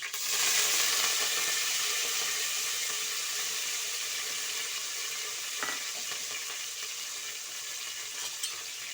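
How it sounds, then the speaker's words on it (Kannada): Fenugreek leaves fry in hot oil in a pan, giving a steady bright sizzle with a soft stirring scrape midway, close and continuous with no talking. "ಮೆಂತ್ಯ ಸೊಪ್ಪು ಎಣ್ಣೆಯಲ್ಲಿ ಸ್ವಲ್ಪ ಫ್ರೈ ಆಗಲಿ"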